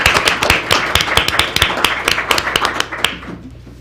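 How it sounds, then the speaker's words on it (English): A modest group applauds at a morning general session, distinct individual hand claps in a loose uneven rhythm, close and fairly loud, tapering off after about three seconds. "Should give them a round of applause."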